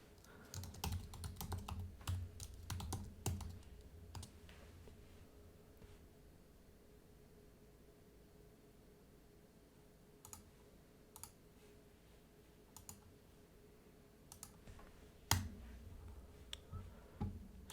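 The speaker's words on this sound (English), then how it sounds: "I'll just type it out so it's easier for you guys to follow along" Bursts of typing on a computer keyboard, quick clustered keystrokes with pauses in between, close and fairly quiet over a faint steady hum.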